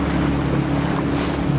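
Motorboat running on the Chuna River through rapids, a steady loud engine drone with rushing water and wind buffeting the microphone throughout, no voices.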